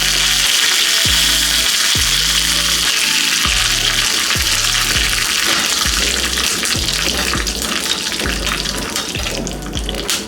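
Loud, dense sizzling and crackling as urad dal and a sprig of curry leaves hit hot oil for a tempering, a continuous close hiss that fills the whole stretch, with soft low tonal music underneath.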